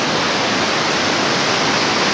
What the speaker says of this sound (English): The river comes down.